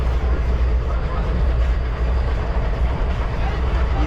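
Steady low rumble and rattling inside a moving, dusty train compartment on the line to Munabao station, India, continuous and loud, with faint muffled voices mixed into the din.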